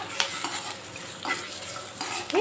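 Peanuts fry in a pan for chutney while being stirred, giving a soft sizzle under repeated scraping and light clinks of the utensil against the pan. No one speaks.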